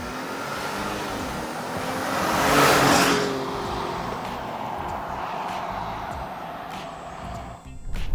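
A 2019 Ford F-150 Limited pickup truck launches and accelerates hard, its engine swelling to a loud peak before easing off into a steady roar, with no talk over it.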